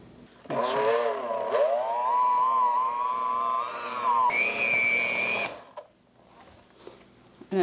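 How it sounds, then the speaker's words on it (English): An electric hand mixer whirs loudly and steadily while making homemade Christmas candy, its motor pitch rising partway through as the speed changes, then cutting off, leaving a few quiet clicks. "I just thought it'd be easier to show you using a hand mixer"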